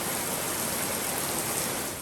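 Steady rain falls at night, a continuous dense hiss that fills the whole clip evenly with no voices.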